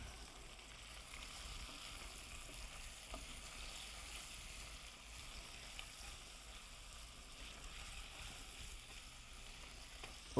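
Chicken pot pie filling fries in a pan with a continuous, even sizzle and hiss, steady and fairly quiet throughout with small pops and no talking.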